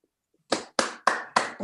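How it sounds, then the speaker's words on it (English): After a moment of silence, four sharp, close hand claps ring out at an even, unhurried pace in a room at a university teaching award presentation, each clap cleanly separated and decaying quickly. "give Chris another round of applause"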